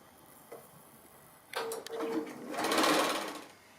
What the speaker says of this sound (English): I've stitched my braid on, stitching down either side of it